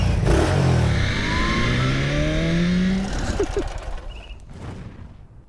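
A Honda Navi motorcycle ridden on the way to work, its small engine revving up in rising tones and then dropping away, loud and close, fading at the end.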